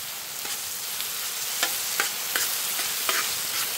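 Porcini mushrooms sizzling steadily in a pan outdoors in a forest, with a spoon stirring and scraping in light, irregular strokes over the constant frying hiss.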